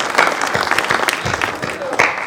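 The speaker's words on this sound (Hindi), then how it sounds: "एक बार तालियां बजाइए" An audience at a Hindi kavi sammelan poetry gathering claps in a brisk, close round of applause, mixed with speech from the stage.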